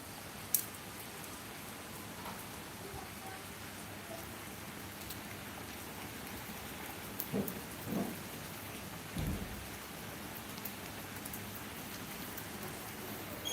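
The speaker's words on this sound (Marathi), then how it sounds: "आणि हा पाऊस कुठे पडतोय माहिती आहे का तुम्हाला?" Rain in the Konkan region falling as a steady soft hiss throughout, with a few faint distant thunder rumbles near the end, and no speech.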